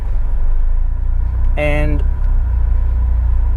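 A car eases off in automatic drive, its engine giving a steady low rumble throughout while a brief tonal chime sounds partway through and a voice speaks a word.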